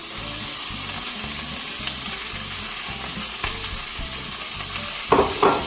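Pasta with tomato sauce, green olives and onions sizzling in a hot pan: a steady close frying hiss with a low rhythmic hum underneath, then a couple of sharp scraping stir sounds near the end, no talking.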